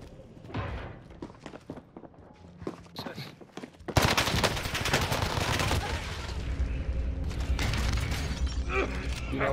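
Gunfire in Call of Duty on Rebirth Island, with an STG 44 in play, starts as scattered shots and then becomes dense sustained automatic fire from about four seconds on, loud and continuous, with a shattering crackle.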